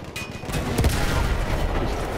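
A shotgun blast in a Battlefield 1 campaign battle, one heavy boom near the start with dense, loud gunfire and rumble continuing throughout.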